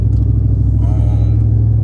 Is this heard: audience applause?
no